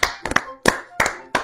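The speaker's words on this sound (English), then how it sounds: "Just start clapping." About five close hand claps come in an uneven rhythm, crisp and loud, with short silent gaps between them and no speech.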